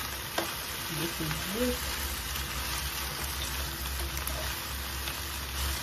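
Quail meat stir frying in a hot pan, a dense steady hiss of sizzling throughout, with a brief spoken remark near the start.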